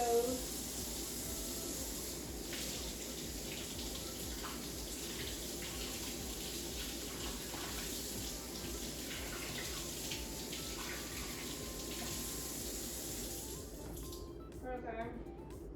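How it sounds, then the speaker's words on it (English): Tap water runs steadily as potatoes are washed in a kitchen sink, a soft continuous hiss and splatter with faint handling noises, stopping near the end. "next I'm going to wash my potatoes"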